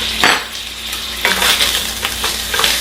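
Beef sizzles in a pan with sesame oil while being stirred and mashed, with steady crackling frying noise and intermittent scraping clicks of a utensil, loud and close.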